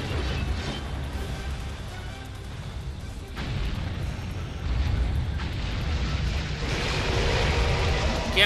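An explosion attack called reactive venting in the War of the Monsters video game sounds as a long stretch of heavy rumbling blasts and crashing booms, dense and loud, building slightly toward the end.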